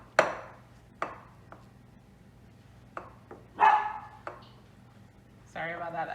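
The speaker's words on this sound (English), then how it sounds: "that's my doggie in the background." A pet dog barks in a kitchen during bread making, several sharp, separate barks at moderate distance, fairly faint and spaced apart, with a rougher, louder burst near the end.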